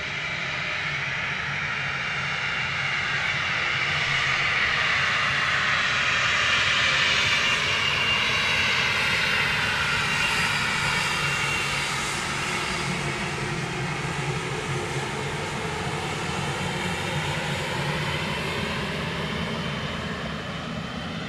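An airplane on the runway at Dallas Love Field makes a loud, continuous engine roar with a sweeping whine that rises and falls slowly as it passes, lasting about twenty seconds with no talking.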